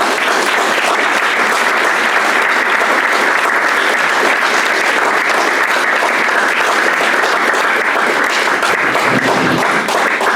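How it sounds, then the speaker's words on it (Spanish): Sustained, dense applause from a lecture audience in a hall, loud and steady throughout without a break, many hands clapping together. "Y, como siempre, don Antonio, un aplauso para usted por estar aquí."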